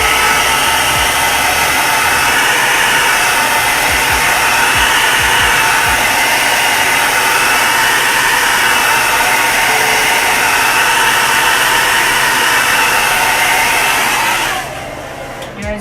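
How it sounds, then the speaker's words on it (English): A handheld hair dryer blows on wet chalk paste, a loud, steady close-up roar of rushing air with a motor whine that holds for about fifteen seconds before cutting off. "So I'm just going to blow dry this real quick and then lay it back down"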